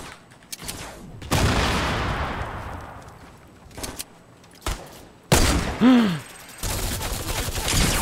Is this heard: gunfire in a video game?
yes